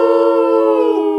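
People imitate a wolf howl with their voices, one long sustained tonal cry that glides gently downward near the end, loud and close.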